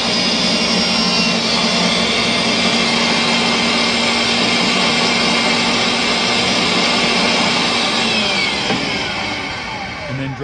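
A pipe threading machine roars loud and steady, motor drone and grinding broadband noise holding constant for about ten seconds while it removes the burr from a pipe end, then easing slightly at the close.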